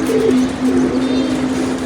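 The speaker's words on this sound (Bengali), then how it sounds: "দেখেন কতগুলো একসাথে আসছে সব পরে ওরা পাল্লারি কবুতর" Flying pigeons coming down together at a home loft, with a close, steady low cooing that carries through the whole short stretch and no talking.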